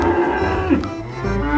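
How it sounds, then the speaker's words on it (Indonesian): Cow moo sound effect from a baby cow toy, a loud sustained bovine low with rich harmonics filling the short moment, playing over a steady background with no talk. "Wow, baby sapi lagi teman."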